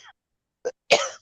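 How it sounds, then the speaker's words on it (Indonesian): A short throaty cough, then a second harsher cough trailing off, close and fairly loud with silence between, during a Dutch language lesson. "Alah, batuk lagi."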